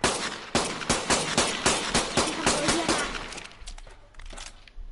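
Rapid fabricated-pistol fire in the ARK survival game during a PvP fight: a quick string of about a dozen sharp, loud shots in an uneven rhythm, tapering into scattered fainter pops and clatter near the end.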